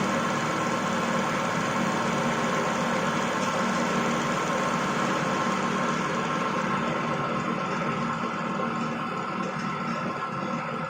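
A motor-driven gear pump running at a constant 1150 rpm in a test rig, giving a steady, unbroken mechanical whine and hum at even loudness throughout.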